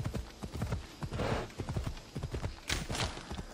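Horse hooves clip-clop steadily as a rider travels in the video game Assassin's Creed Odyssey, a quick rhythmic series of close hoof strikes with a brief snort-like burst midway, heard alone without talk.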